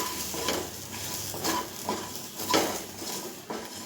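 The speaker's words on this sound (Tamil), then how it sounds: "இப்போது நல்லா வெங்காயமெல்லாம் நல்லா வதங்கி வந்துடுச்சு பாருங்கள்." Onions soften and sizzle in a pan while a spoon stirs them, with a constant frying hiss broken by several soft scraping pushes against the metal every half second or so.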